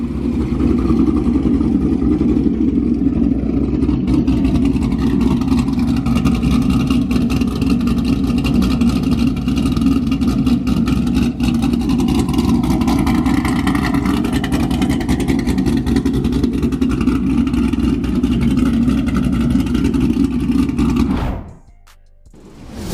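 A Corvette engine idles with a choppy, loping beat, loud and steady for about twenty seconds before cutting off abruptly.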